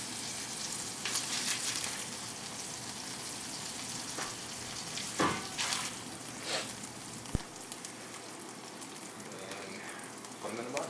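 Cheese-stuffed burgers sizzle and fry in a pan with a steady crackling hiss, a few louder pops and scraping sounds breaking through, and faint voices in the background.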